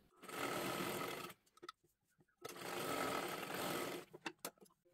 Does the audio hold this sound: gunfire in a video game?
no